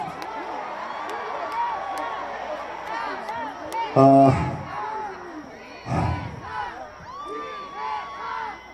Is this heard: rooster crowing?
no